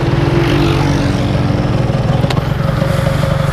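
Motorcycle engine running steadily while riding toward an intersection, a constant close drone with a low harmonic hum and no speech.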